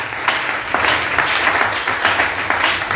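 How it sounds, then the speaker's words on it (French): A congregation at a church service bursts into applause, a steady, fairly close wash of many hands clapping for a few seconds. "Est-ce qu'on peut accompagner cette fraternité par nos acclamations?"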